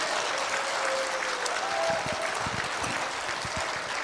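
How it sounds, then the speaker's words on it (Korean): A large crowd at a Christian rally in Daejeon gives dense, continuous applause, a steady wash of many hands clapping at an even level throughout. "다시 박수하겠습니다."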